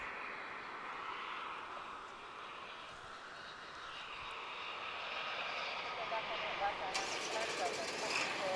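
A Korean Air Boeing Dreamliner jet passes at a distance over a big airport, making a steady broad roar that slowly swells, with a faint hiss and a short high tone near the end.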